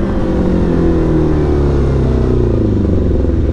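A sports motorcycle accelerating hard in traffic, its engine note droning loud and continuous throughout with a steady rising growl and no talk.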